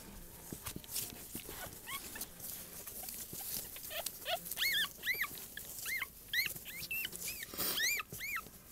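Puppies whimper and squeak in repeated high, rising cries, faint and close, with light shuffling and pattering in the background.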